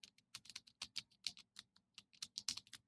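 Fingers type a single word on a computer keyboard, a quick run of about twenty crisp, close key clicks in an uneven rhythm, quiet and alone with no talk.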